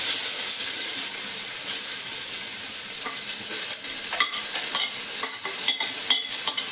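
Grated coconut and onions fry in a pan for a spinach thoran, with a steady hissing sizzle and intermittent scraping stir strokes that grow busier toward the end.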